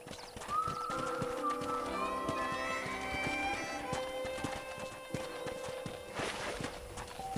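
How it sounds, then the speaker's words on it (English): A horse in the Red Dead Redemption video game clip-clops along at a steady walk, hoofbeats mixed with a whinny and a music score, with no talk over it. "let's see if you can still ride a horse"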